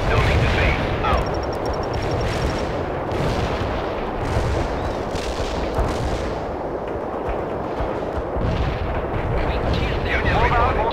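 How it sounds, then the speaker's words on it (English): Artillery fire in the World in Conflict game: a dense, continuous barrage of heavy booms and blasts rumbling through the whole stretch, loud and layered, with radio-style voices faintly mixed in among the explosions. "We're ready with the artillery. Firing for attack."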